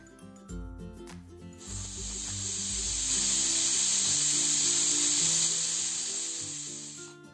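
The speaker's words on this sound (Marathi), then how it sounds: "आता इथे आपण कुकरला झाकण लावून घेऊया आणि साधारणतः 3 शिट्ट्या करून घेणार आहोत कुकरला आपण" A pressure cooker lets out a long, loud, steady hissing whistle while pulao cooks. It swells in after a second and holds for several seconds over background music.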